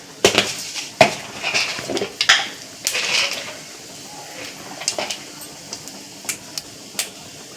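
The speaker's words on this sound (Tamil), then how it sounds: "நல்லா பட்டை கடுகு எல்லாம் பொரிஞ்சிற சவுண்டு கேட்குது" Mustard seeds, cinnamon, urad dal and fennel spluttering in hot oil, with scattered sharp pops and crackles that are denser early and thin out, along with a few utensil clinks.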